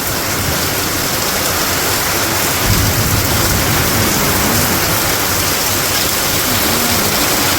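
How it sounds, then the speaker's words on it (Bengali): Heavy rain pours steadily in a rural village during the rainy season, a dense, constant roar close by, with a low rumble of thunder rolling in partway through and continuing under the downpour; no voices. "এমন বৃষ্টি নামছে, এমন বিদ্যুৎ চমকাইতেছে, এমন বজ্রপাত হইতেছে"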